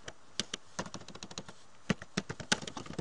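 Someone types on a computer keyboard in an Excel worksheet, entering a chart name. Soft, close key clicks come in quick irregular bursts, quiet and alone.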